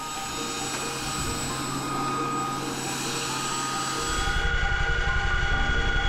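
A military helicopter on a mountain rescue mission takes off and climbs; its turbine whine and rotor thrum hold steady, then the rhythmic blade chop grows louder and more pronounced toward the end.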